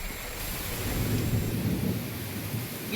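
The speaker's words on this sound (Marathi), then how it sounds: "वादळी वाऱ्यासह पावसानं जोरदार हजेरी लावली" Heavy pre-monsoon rain with stormy wind in Sindhudurg district, a dense continuous roar of downpour with a deep rolling rumble of thunder swelling through the middle.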